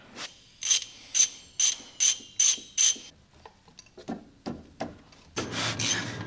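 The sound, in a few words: ratchet undoing drive shaft bolts on MK4 car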